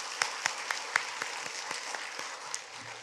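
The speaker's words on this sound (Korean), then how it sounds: "우리 여전도 임원들을 위해서 격려의 박수 하겠습니다" A church congregation gives encouraging applause for the women's mission society officers at an afternoon worship service, moderately distant clapping with some distinct, roughly rhythmic louder claps standing out.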